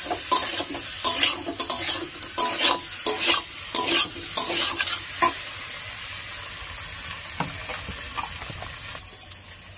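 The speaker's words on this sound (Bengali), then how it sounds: "তো আর একটু ভালোভাবে কষিয়ে নেব।" Rohu fish curry with taro root stirred and sautéed in a pan in a village kitchen: a close, steady sizzle broken by repeated scraping strokes of a spatula, with no one speaking.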